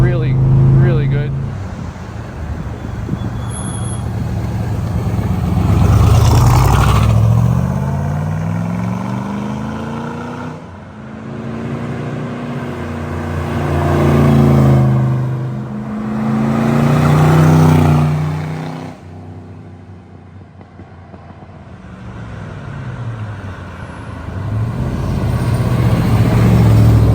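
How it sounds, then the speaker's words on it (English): A 1965 Chevrolet Corvette convertible with the L79 327 V8, four-speed and side-pipe exhaust makes repeated drive-bys, its deep burbling exhaust swelling loud as it passes close, fading, then returning several times. "exhaust note with those side pipes, really good"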